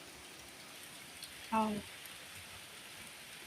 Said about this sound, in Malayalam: ഇന്ന് രാവിലെ തൊട്ട് നല്ല പെരുമഴയാണ്, നല്ല മഴയാണ് ഇവിടെ കേട്ടോ, നല്ല മഴ.